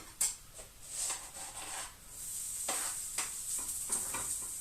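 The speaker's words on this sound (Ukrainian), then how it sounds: "Зараз трохи висмажиться сало, тоді вкину цибулю." Pork fat (salo) frying in a pan makes a bright, hissing sizzle near by, with sharp spits and pops and scattered stirring taps over a steady crackle.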